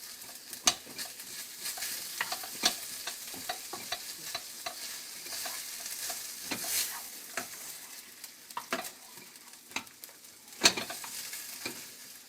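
A salmon rissole filling simmers and sizzles in a pan, giving a steady, soft frying hiss broken by scattered small pops and the scrape of stirring, with no voices.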